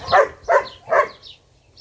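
A young dog in training gives three quick barks, evenly spaced and fairly close, followed by a fainter fourth yelp trailing off.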